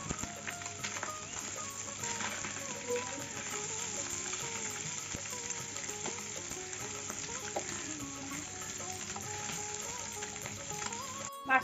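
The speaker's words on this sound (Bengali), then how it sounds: "আর এক পিঠ উল্টে দিচ্ছি।" Small mourola fish frying in oil in a pan after being turned, a steady close sizzle and crackle with faint tonal squeaks and pops running underneath, no talk.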